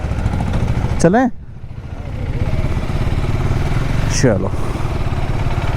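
A KTM Adventure 390 motorcycle engine runs steadily close by after servicing, with a rev rising near the start and again later, while someone speaks briefly over it.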